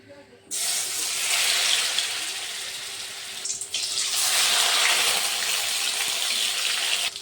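Stuffed pointed gourd (potol) dropping into hot oil in a pan: a loud, steady hiss of frying that bursts in suddenly, dips briefly midway, then surges again and keeps sizzling close up without pause.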